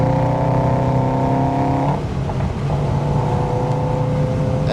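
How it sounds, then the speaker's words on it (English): Subaru WRX STI exhaust recorded close up while driving with the sunroof open, a steady loud engine drone with strong harmonic tones that drop in pitch as the car shifts partway through, then settle into a continuous rumble. "I got the sunroof open and I got a mic on the exhaust."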